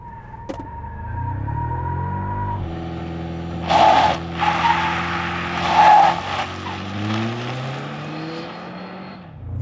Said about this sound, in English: Brake stand.